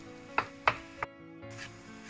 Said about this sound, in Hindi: ये जो है हमारा लहसुन इस तरह ही चॉप कर रहे हैं